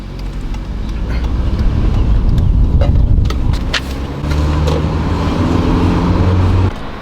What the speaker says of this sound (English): We're in Delia's 4-cylinder Veloster, so we'll see how this goes